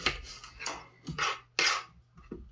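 Knife chopping onions on a cutting board for perogy filling, a few irregular sharp chops and clatters close by in a home kitchen, no talking.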